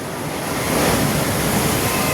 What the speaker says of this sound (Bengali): দীঘায় প্রবল উত্তাল সমুদ্র চলছে জলোচ্ছ্বাস লাগাতার বৃষ্টি